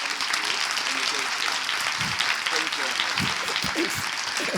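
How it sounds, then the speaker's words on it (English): Audience at a conference closing session clapping steadily, a dense sustained patter of many hands at moderate distance with a few louder individual claps rising out of it. "And the big applause for Angela."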